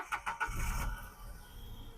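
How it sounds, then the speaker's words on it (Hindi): A second-hand car's engine is started with the self starter, with a few quick cranking pulses before it catches on the first try and settles into a low, steady idle nearby. "गाड़ी एक बार में स्टार्ट हो गई मतलब कि गाड़ी का बैटरी सही है।"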